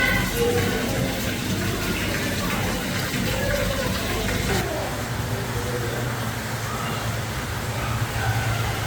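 A waterfall in the corner of a fish pond at an indoor aquarium pours steadily, a continuous broadband rush that holds through the whole stretch with no breaks.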